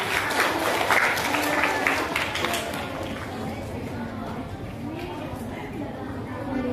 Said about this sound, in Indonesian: Tepuk tangan untuk kalian bertiga.